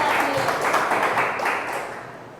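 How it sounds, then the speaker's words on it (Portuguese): A church congregation applauds in a dense wash of clapping that holds steady, then fades toward the end. "Pode dar uma salva de palmas para o Senhor, se tem crente aqui nessa igreja"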